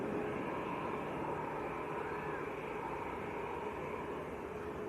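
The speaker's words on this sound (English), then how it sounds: "Finnair Airbus A320." A Finnair Airbus A320, about 23 years old, departs Manchester Airport for Helsinki, heard as a faint, steady distant jet rumble and hiss with no change over the few seconds.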